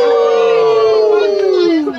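Several people on a tour excursion in Skagway, Alaska let out a long, loud wolf-like howl together, voices imitating wolves, holding a sliding pitch before trailing off.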